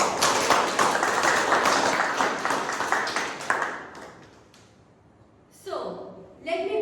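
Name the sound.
applause for a speaker at a debate meeting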